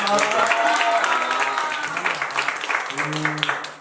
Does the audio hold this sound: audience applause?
yes